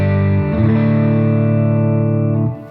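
Electric guitar on the neck pickup through a Quilter MicroPro 200 amp, sustaining loud distorted chords that shift once and ring steadily before cutting off, with no voices.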